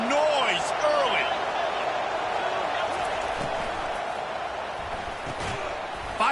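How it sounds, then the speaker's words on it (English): A loud, constant roar from a college football stadium crowd fills the scene, steady and dense throughout, with a commentator talking over it. "This crowd bringing the energy and noise early."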